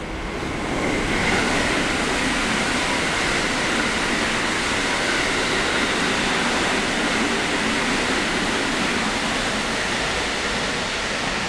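A JR West train rushes through Zeze Station in Japan without stopping, a steady, loud roar of wheels and rushing air that holds for several seconds without letting up.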